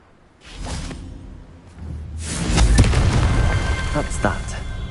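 A Confringo fire spell goes off in Hogwarts Legacy, a loud booming blast with a crackling, rumbling tail that swells after a softer whoosh and lingers for several seconds.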